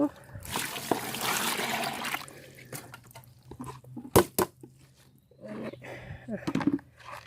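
Second rinse water strained off soaked cut pieces during cooking prep, heard as a short trickling pour followed by sparse drips and small clatters, with quiet background noise.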